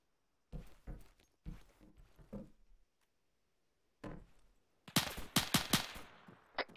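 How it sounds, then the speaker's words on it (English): Gunfire in the military shooter Arma 3: scattered sharp shots early on, a pause, then a loud close burst of rapid, cracking rounds near the end. "Shots to the west."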